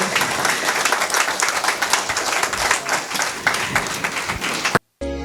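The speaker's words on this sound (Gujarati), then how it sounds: "જોરદાર તાળીઓથી મિત્રો, હજુ અવાજ આવવો જોઈએ." Audience applause at a Gujarati poetry recital, a dense and steady wash of many hands clapping that holds loud throughout, then cuts off abruptly near the end.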